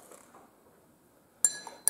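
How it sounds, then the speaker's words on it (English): A teaspoon strikes a glass of water twice, giving two bright, sharp clinks close to the microphone that stand out against a quiet background, the second coming about half a second after the first. "Drop it into the glass and stir."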